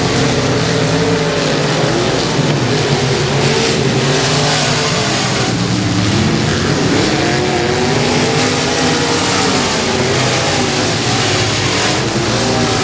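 Pro Mod race cars roar around a speedway oval, a loud, continuous blend of engines revving and droning without pause, dense and steady throughout.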